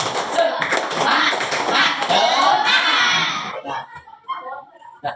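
Classroom of students clapping a rhythmic class clap in unison, loud sharp patterned claps with voices chanting along, then a few scattered claps and shuffling as it trails off.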